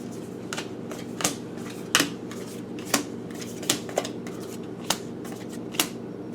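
Tarot cards are handled and laid down on a table, each one landing with a soft, crisp snap; about eight of them come in an irregular rhythm over a low steady hum, close and moderately quiet, with no speech.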